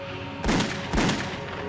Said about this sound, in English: We've had a gun fired on board the aircraft.